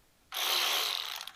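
Ratchet wrench clicking rapidly and steadily while undoing the bolts that hold the carburetor of a 1999 Aprilia Pegaso 650 motorcycle, close and fairly loud, starting abruptly after a quiet moment and running for about a second.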